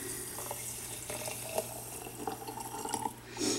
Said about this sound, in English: And then I just pour in a cup of water.